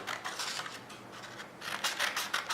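Scissors snip through paper for a craft project in a quick series of crisp, rasping cuts, close and fairly quiet, with short pauses between bursts.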